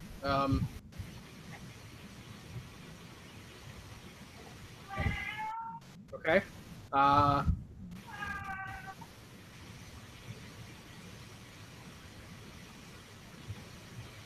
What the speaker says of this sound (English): every time I hear either one of their cats